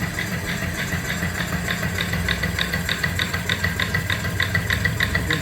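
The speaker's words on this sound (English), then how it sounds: "You can kind of hear the exhaust chuck, chuck, chuck up the stack." Antique off-grid steam boiler and engine combination running, its exhaust chuffing up the stack in a fast, steady beat of even puffs over a continuous mechanical hum, close and moderately loud with no talk.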